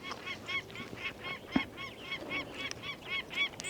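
Geese honk repeatedly in an agitated, steady rhythm, with many quick calls overlapping at a moderate distance, spooked near a nest on a mountain top.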